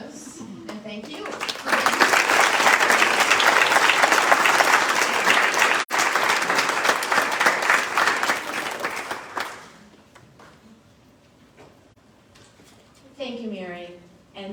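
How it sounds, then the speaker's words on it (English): An audience at an awards night gives a loud, sustained round of applause that swells, then tapers off after several seconds, with a voice speaking near the end. "let's give you all a rousing applause, and thank you"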